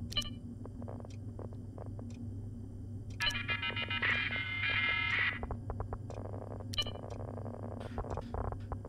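Telephone keypad tones from the detective video game Shadows of Doubt, a run of short beeps followed by longer sustained dial-tone bursts over a steady low background hum.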